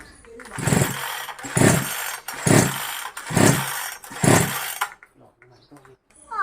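Five repeated pull-start attempts on a model 5800 chainsaw engine, each a brief sputtering burst that dies away, followed by near quiet.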